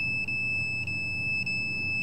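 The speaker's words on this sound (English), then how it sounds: "the demonstration that the cell phone is setting off the alarm when the cell phone is receiving" An alarm in a living room beeps in short repeated high tones, four quick chirps over a low background hum, set off by a cell phone receiving a signal.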